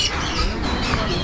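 Many macaws calling at the Trichy bird park. The clip is a dense, continuous wash of squawks and chirps, fairly loud and close, with no clear pauses.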